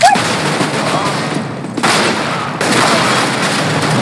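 Rapid gunfire bursts in the video game CS:GO, a loud dense rattle of shots filling the whole stretch, dipping briefly before resuming at full strength.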